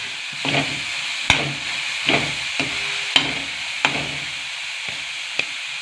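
Agave (ghaypat) vegetable stir-fried in oil in a pan, with steady sizzling and hiss broken by several sharp scraping and stirring knocks at irregular intervals, close and moderately loud.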